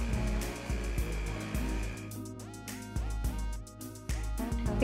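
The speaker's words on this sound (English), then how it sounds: "If you have a whisk attachment that looks like this, that's a little wider, this really helps get a lot of air in there." An electric mixer fitted with a wide whisk attachment whips cold heavy cream, a steady motor whir running throughout with a few brief shifts in pitch and no talking.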